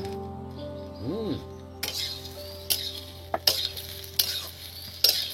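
Sweet-sour jujube (kul) pickle stirred in a pan, with soft scraping and clinking strokes and a few sharper knocks at irregular intervals over a steady low hum, brief voice sounds at the start.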